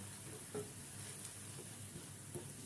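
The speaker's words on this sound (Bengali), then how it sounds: "রিফাইন্ড অয়েল দিয়ে আমি পরোটাগুলো ভেজে নেব।" A potato-stuffed paratha fries in refined oil on a pan, a faint, steady low sizzle with a few soft bumps and no voices.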